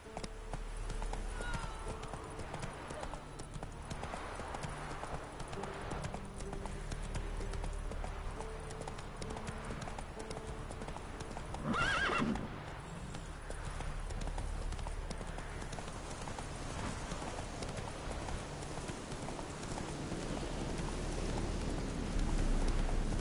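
Hooves of the horse Roach clip-clop steadily through a video game scene, with a short whinny near the middle and a constant rain-like wash underneath; no speech.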